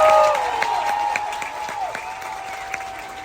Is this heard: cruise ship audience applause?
yes